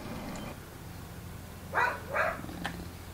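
A dog gives two short barks in quick succession, with a fainter yip after, heard at moderate distance over a low steady background hum in a workshop.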